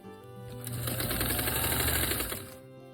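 A domestic sewing machine stitches a quilt seam in one steady, continuous run of fast needle hum lasting about two seconds, close and loud, with no talking over it.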